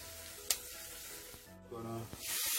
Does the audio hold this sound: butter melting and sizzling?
yes